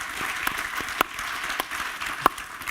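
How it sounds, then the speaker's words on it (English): Brief, thin applause from a conference audience, scattered claps with a few sharper hand strikes standing out over a moderate hall ambience. "Ladies and gentlemen, a big round of applause."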